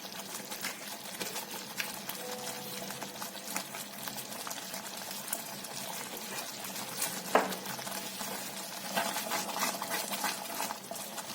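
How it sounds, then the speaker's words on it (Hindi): Creamy white sauce being stirred quickly in a pan over low heat, a soft continuous bubbling and scraping with a few light clinks, fairly quiet, no talking. "مکس کریں گے، بہت تیزی سے مکس کرنا ہے آپ نے، آنچ بہت ہلکی رکھنی ہے۔"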